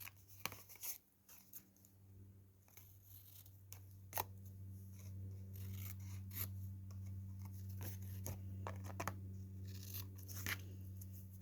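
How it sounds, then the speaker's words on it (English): Scissors snip paper while making handmade journal cards at a craft table, a series of small, crisp, close cuts scattered over a low steady background hum. "I'll just snip that bit off there."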